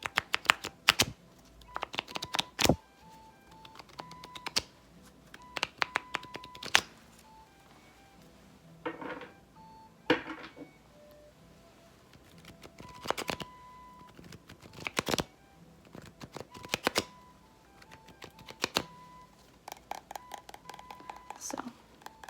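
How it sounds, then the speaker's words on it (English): Cards being shuffled in a series of quick, crisp riffling bursts separated by short pauses, close up and fairly quiet. "once you have successfully shuffled the deck"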